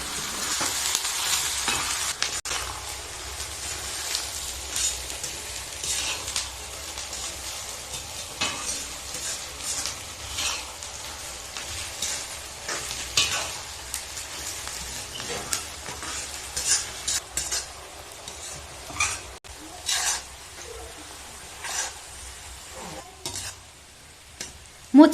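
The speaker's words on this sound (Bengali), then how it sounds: "এই পেঁয়াজ ভাজার সময় চিনিটা এই কারণেই দেওয়া হলো যাতে পেঁয়াজটার কালার খুব সুন্দর আসে" Onions frying with sugar in oil for chicken biryani, a steady crackling sizzle with repeated stirring scrapes and occasional utensil clinks, close and fairly loud throughout, with no talking.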